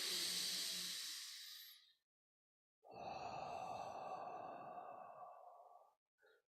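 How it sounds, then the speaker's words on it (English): A deep cleansing breath during a qi gong class: a long airy inhale-like hiss, a pause of silence, then a sustained breathy exhale that trails off, close and quiet with no talking. "Fill and let it go. Third deep cleansing breath."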